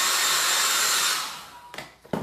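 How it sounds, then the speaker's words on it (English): A blow dryer on its cool setting drying chalk paste runs as a steady close whoosh, then winds down, with a few short thumps and handling noises at the end. "I've just got the blow dryer on a cool setting"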